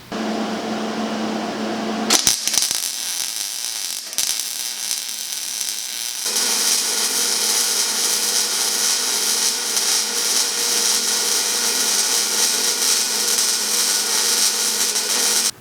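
A Miller MIG welder lays beads on pipe and angle iron, making a loud, steady buzzing crackle that starts after a few short bursts and then runs without a break, with no talking.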